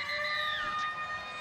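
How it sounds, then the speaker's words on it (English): A half-time siren sounds at a rugby league World Cup match between Italy and the USA, a steady tonal wail that slides downward in pitch over ambient stadium noise. "Here's the siren."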